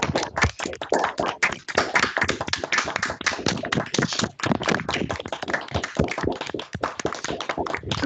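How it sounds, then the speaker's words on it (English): An audience at a prostate cancer event claps in a dense, uneven patter of individual hand claps, close and continuous, with a few short gaps. "I think we should give you all a big clap."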